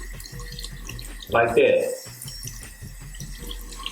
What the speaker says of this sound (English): what I'm simply going to do is turn the cold water on.